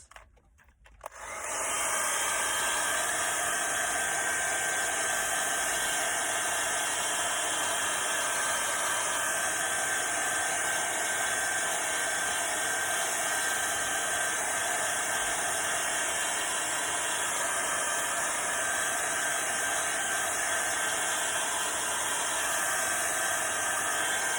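A hair dryer switches on and blows steadily for over twenty seconds, a loud, close, unbroken whooshing roar over a stamped silk print, with no talking.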